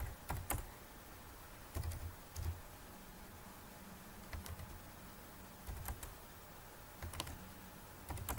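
Soft clicks of typing on a computer keyboard come in scattered short bursts between quiet gaps, faint and close against a low background hiss.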